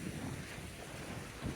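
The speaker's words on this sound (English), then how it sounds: "It's a bit windy now." Wind gusting over open water near a sailing kayak, a loud continuous broadband rush with microphone buffeting and no other distinct sounds.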